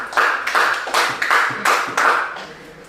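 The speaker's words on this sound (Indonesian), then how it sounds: "Beri aplaus sekali lagi." Classroom applause, with several short bursts of hand clapping in a quick repeating rhythm, close and fairly loud, with no talking over it.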